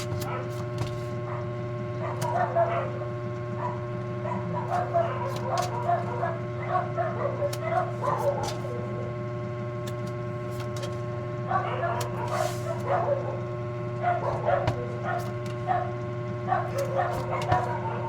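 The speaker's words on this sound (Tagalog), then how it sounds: "Ingay ng mga aso sa background ko." Several dogs bark and yip in the distance, in scattered clusters, over a steady low electrical hum.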